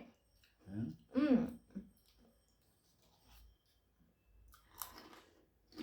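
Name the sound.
chewing food during a poison game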